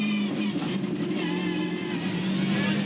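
Damaged 2015 V8 Supercar driving on after hitting the wall at the Adelaide round, a steady engine drone with a pitch that wavers slightly, heard under a commentator's voice.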